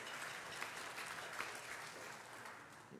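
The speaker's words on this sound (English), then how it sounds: "let's give them a round of applause today" A church congregation applauds a winning high school football team, steady broadband clapping from many hands filling the room evenly throughout, fairly quiet and distant with no voices on top.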